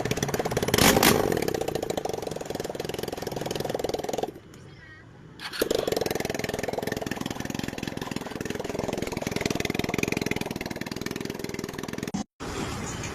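A freshly repaired motorcycle engine runs at a steady idle, close by, with a continuous mechanical clatter. The noise drops away briefly partway through, then resumes, and a short cut comes near the end.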